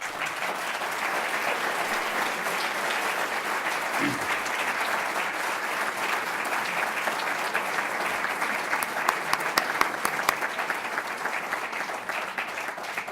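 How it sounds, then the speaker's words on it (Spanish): A university law faculty audience applauds during a tribute to Minister Cossío, sustained, even clapping filling the hall at moderate volume, with sharper individual claps standing out near the end. "Y le podemos aplaudir por ese hecho."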